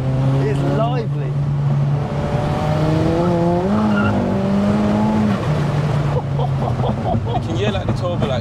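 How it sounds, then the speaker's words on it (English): A big-turbo MK5 Golf GTI making about 515 bhp, with 200K miles, revs loudly and continuously, its engine note rising and falling in pitch. Turbo spool hiss and whoosh come through near the microphone, and a voice talks over it. "You can hear like the turbo like spool and all of that."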